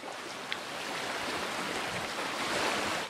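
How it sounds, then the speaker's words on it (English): Ocean waves wash onto the shore near a cabin, a steady broad rushing surge with soft swells and no voices, moderately loud and continuous. "Well, the waves aren't quiet"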